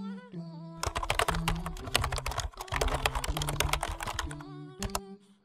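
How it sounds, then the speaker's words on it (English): Rapid, steady keystrokes clatter on a computer keyboard while a command is typed, a dense run of close clicks with a brief pause midway and a few final taps. "Type the first command again."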